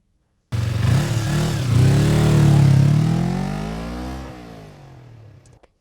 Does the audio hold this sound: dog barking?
no